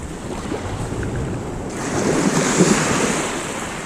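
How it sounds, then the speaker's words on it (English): Waves break over a sandbar along a beach beside a groin, rolling surf rising into a louder wash partway through, with wind buffeting the microphone throughout. "You can see where those waves are breaking"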